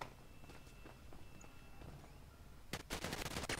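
Gunfire in a multiplayer shooter video game: a burst of rapid shots erupts near the end after quieter scattered sounds, loud and close.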